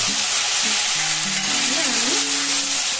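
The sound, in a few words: prepared spice paste frying and stirred in pan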